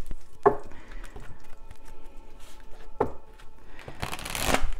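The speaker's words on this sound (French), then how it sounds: "je suis en train de brasser le jeu" A deck of tarot cards is shuffled close by in several quick riffling bursts, separated by softer handling sounds, with the longest flurry coming at the end.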